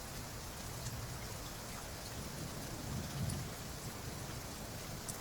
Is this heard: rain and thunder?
yes